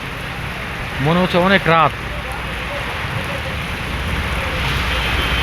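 Steady rain pours through a dark night during a storm with lightning, a dense wash of falling water heard throughout while a voice speaks briefly near the start.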